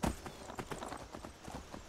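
Horse hooves clip-clop in an irregular trotting rhythm in Skyrim, close and moderately loud, with no voices over them.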